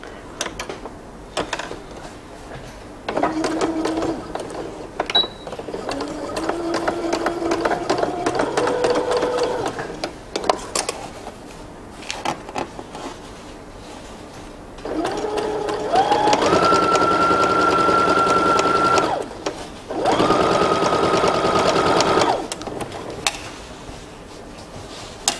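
A sewing machine stitching the side seams of drawstring pants, running in several separate bursts of steady mechanical whirring with short pauses of handling noise between them.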